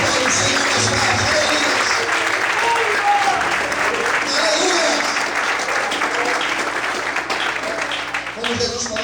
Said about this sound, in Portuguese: Aplauda o Senhor nas mãos